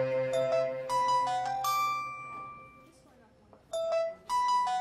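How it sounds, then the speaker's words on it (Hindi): In an indoor drama scene, a mobile phone ringtone plays a short electronic melody of clear beeping notes. It pauses briefly and then repeats, at moderate volume. "एक फोन सुन लूं।"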